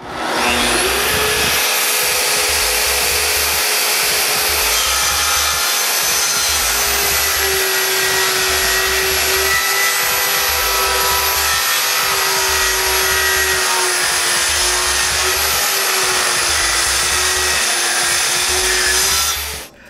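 A power tool runs steadily while trimming a sliver off each end of an interior door laid on a workbench, a loud continuous high whine holding for about twenty seconds, close up, with no talk.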